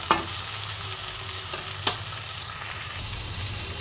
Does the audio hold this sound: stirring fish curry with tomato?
yes